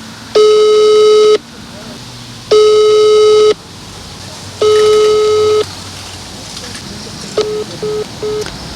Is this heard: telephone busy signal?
yes